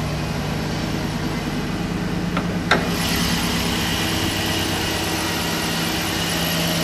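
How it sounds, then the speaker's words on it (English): Vortec V8 engine of a 2011 Chevy Silverado pickup running steadily at idle, a close, even low rumble with a brief faint click partway through. "Running nice and strong in this Vortex."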